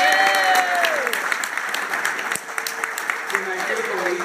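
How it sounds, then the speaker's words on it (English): Wedding guests applauding the bridesmaids during a reception speech, a lively burst of clapping with some whoops and cheering voices mixed in, steady and fairly close before easing slightly toward the end. "round of applause for the bridesmaids."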